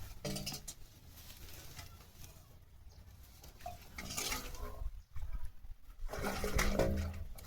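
Water gurgling and rushing inside a 500-foot farm borewell, heard up close as an uneven, echoing wash that swells and fades in surges.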